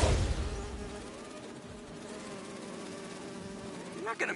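Bees in the Spider-Man 2 video game drone in a dense, steady buzz that fills the whole stretch, strongest at the start and holding on under a faint low hum.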